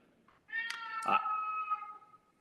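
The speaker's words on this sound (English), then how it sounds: "that's my cat." A house cat gives a single drawn-out meow, close and clear in a quiet room, with a fainter short chirp just before it.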